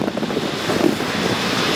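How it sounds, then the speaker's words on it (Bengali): Ship engine room noise aboard a large vessel with everything shut down: a dense, steady broadband roar and hiss, loud and continuous, with no voices. "সবকিছু বন্ধ, তারপরও নয়েজ পাবেন। ইঞ্জিন রুম অনেক অলওয়েজ নয়েজ থাকে।"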